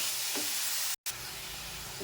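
Grated beetroot sautés in a hot pan for chutney, a steady close hiss of sizzling that cuts out for a split second and then resumes.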